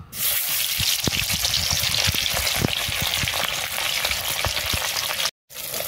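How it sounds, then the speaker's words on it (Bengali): A hilsa fish head frying in mustard oil in a wok, a loud, dense, continuous crackling sizzle up close that drops out briefly near the end, with no voices. "কড়াই সর্ষের তেলটা দিয়ে ইলিশ মাছের মাথাটা ভেজে নেব।"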